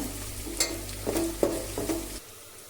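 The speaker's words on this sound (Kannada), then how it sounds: "ಫ್ರೈ ಮಾಡ್ಕೊಂಡಿತ್ತಂದರೆ ಬ್ರೌನ್ ಕಲರ್ ಆಗಬೇಕು" Onions fry in a pan until brown for soya palav, a steady sizzle broken by a few spoon scrapes over a low hum, then the sound cuts off abruptly.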